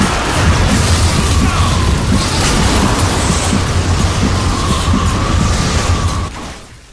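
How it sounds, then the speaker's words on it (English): In The Darkness 2, a thrown vortex sucks nearby enemies into oblivion, producing a loud, dense, continuous roaring rumble with deep booming undertones that holds steady for several seconds and then fades away. "One upgrade allows you to throw a vortex, and this sucks enemies that are close by into oblivion."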